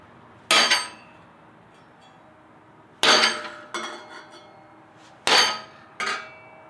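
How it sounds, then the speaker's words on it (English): A sharpened fighting tomahawk strikes sheet metal clamped in a vise, three loud metallic impacts, each followed by a smaller clanking rebound, spaced a few seconds apart with quiet between. "The first hit went clean through. It actually impacted the vise as well"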